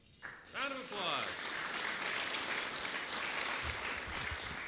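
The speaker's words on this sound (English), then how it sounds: "Round of applause." An audience claps at a Rotary club meeting, a sustained burst of applause filling the room for several seconds, with a voice speaking at the start and again toward the end.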